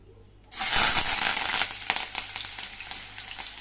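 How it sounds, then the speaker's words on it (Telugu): Garlic hits hot oil and bursts into a loud, close sizzle that starts abruptly, then settles into a steady crackling fry with scattered pops. "నూనె వేగిపోయిందండి ఇప్పుడు ఫస్ట్ తెల్లగడ్డలు వేసుకుంటానండి"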